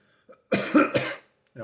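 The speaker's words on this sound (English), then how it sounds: "Still coughing every once in a while" A few harsh coughs in quick succession, close and fairly loud, with brief quiet before and a short voiced sound at the end.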